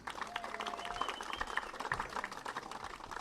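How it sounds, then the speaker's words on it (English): Distant, faint applause rises from the crowd at a Mid-Prairie High School football game honoring seniors and their parents, with the scattered clapping partly masked by amplified voices and ambient stadium noise. "let's have one more round of applause"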